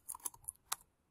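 A handful of quick, faint keystrokes on a computer keyboard as a word is typed, light clicks in a brief burst with no talking.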